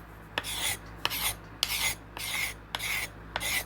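A hardened steel scraper shaves an elm self bow in six even, rhythmic strokes, each a bright rasping pass with a short pause between, close and alone with no talking.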